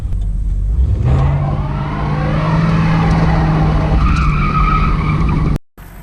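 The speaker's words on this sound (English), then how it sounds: "it does do burnouts" Close, loud tire squeal as a 1986 Ford Crown Victoria LTD revs hard and spins its wheels in a sustained burnout, engine roaring underneath before cutting off abruptly.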